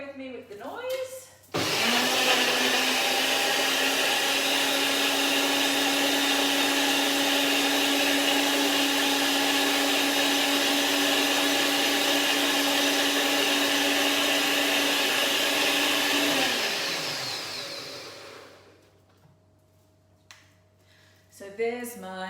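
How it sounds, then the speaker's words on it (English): A kitchen blender whirring a breakfast smoothie at a steady, loud, close drone for about fifteen seconds, then spinning down, with brief talk before and after. "I'll obviously come over to my blender, screw the lid on, and pop this on"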